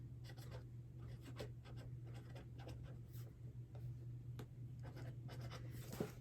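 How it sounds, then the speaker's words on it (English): Pen writing a plant name onto a seed-sowing label, soft scratchy strokes in short bursts over a low steady hum, close and quiet, no voices. "all I'm going to do is write snapdragons on here"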